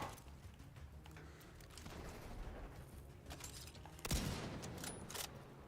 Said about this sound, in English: Do I need to be shooting this thing too?